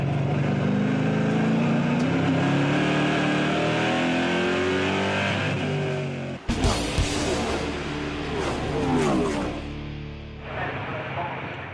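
NASCAR Euro race cars roar loudly on track during a 2013 season race, engine pitch climbing steadily, then a sharp cut as they brake for a corner before revving hard again, with a commentator talking throughout.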